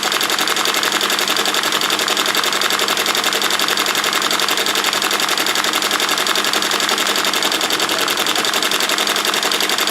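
An embroidery machine stitches an appliqué design with green glitter flake fabric, giving a steady, loud, continuous mechanical whir and rapid needle buzz throughout, with no talking.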